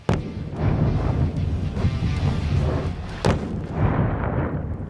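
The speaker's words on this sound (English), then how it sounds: "an explosion like that with C4 is nothing like your usual 4th of July fireworks" A C4 charge detonates at a military range at Twentynine Palms, California, with a sharp blast at the start and another mid-way, each followed by a long, heavy, rumbling roar that fades slowly.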